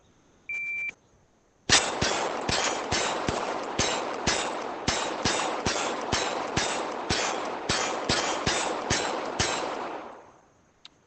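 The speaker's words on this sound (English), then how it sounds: "Let's go ahead and shoot it one more time." A rapid string of about twenty virtual gunshots fired on a drill stage in the ACE VR game, each sharp crack landing in quick, nearly even rhythm after a brief beep, loud and close with no talk over them.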